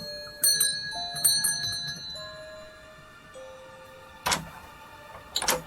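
Doorbell at a farmhouse in the game Contradiction: Spot the Liar, ringing in several bright chiming tones that ring out and decay, followed by two short knocking or rattling bursts, with no talk.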